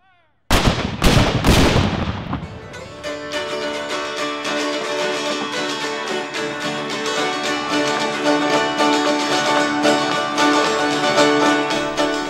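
Historic artillery piece fired at the Ames Plantation heritage festival: a sudden close blast with two sharp cracks, followed by a long fading rumble and a sustained, ringing afterglow of noise.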